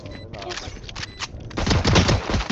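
Automatic gunfire in the shooter game Valorant, rapid bursts of shots that start lighter and build into a dense, loud volley, with voices talking over it.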